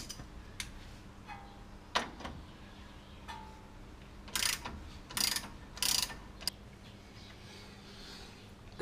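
A ratchet working loose a 14 mm bolt on the front suspension of a 2005 Acura TL, heard as scattered metallic clicks and short bursts of rapid ratcheting over a low background hum.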